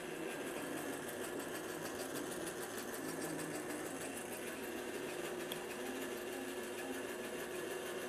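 A longarm quilting machine stitches an appliqué in a fast, steady mechanical whirr, and the rapid needle chatter runs continuously and evenly from start to finish.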